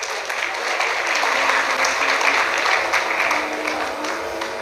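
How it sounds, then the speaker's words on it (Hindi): Indoor audience at a business plan seminar applauding loudly and steadily, dense clapping sustained throughout with no pause. "एक बार जोरदार ताली आप सभी के लिए होनी चाहिए।"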